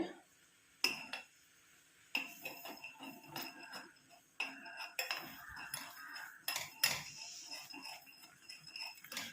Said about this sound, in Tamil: கொஞ்சம் இந்த மாதிரி நல்லா மிக்ஸ் பண்ணி விட்டுக்கிட்டே இருக்கணும்